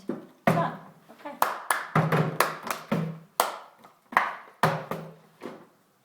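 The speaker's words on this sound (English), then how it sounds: "So grab, clap, grab, slap, tap, move" A sequence of hand claps, slaps and taps in a workshop, about a dozen crisp close hits in an uneven rhythm, each dying quickly into silence.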